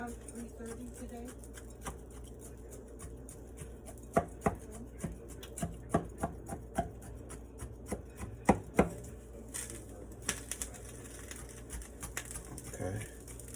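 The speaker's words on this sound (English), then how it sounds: "we'll go ahead and stab it up, get that seasoning inside that meat" A knife repeatedly stabs into a seasoned pot roast, making a close series of irregular, sharp, soft thumps over a low steady background hum.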